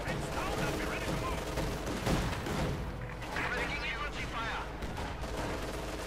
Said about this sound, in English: We'll of course have to see further mortar fire there from the double mortars.